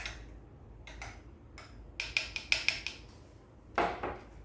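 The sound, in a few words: stirring a drink with a spoon in a glass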